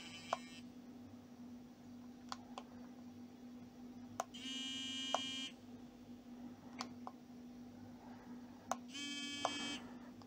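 A DN-405 electric dog training collar gives several short, high electronic beeps alone over a faint steady hum, some as single clicks and two as longer buzzing tones.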